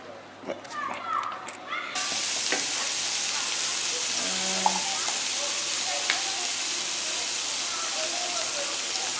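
Shrimp frying in a pan with butter and a little honey, a steady loud sizzle that starts suddenly and keeps going, with a little talk at the start before the pan takes over.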